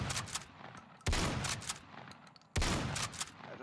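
Gunfire in the WWII shooter Battalion 1944: two sharp, loud shots near 1.1 and 2.6 seconds, each followed by a long decaying echo, over a busy background of distant combat noise.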